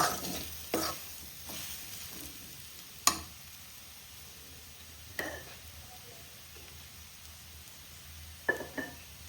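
A mussel stir-fry is sizzling softly in a pan while a spoon scrapes and knocks against the metal every second or two, the sharp clinks standing out over the low, steady frying hiss.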